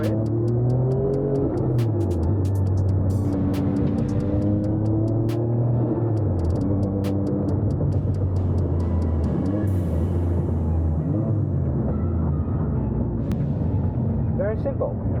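Manual car engine revving up and easing between gear changes, a mid-pitched hum rising and dropping in steps, with a voice talking over it throughout.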